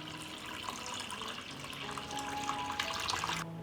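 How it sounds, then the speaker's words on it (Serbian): Water pours steadily into a cooking pot that has a cloth on its bottom and jars arranged inside it, a continuous splashing trickle lasting a few seconds before cutting off abruptly. "Sipam vodu u šerpu do visine poklopca."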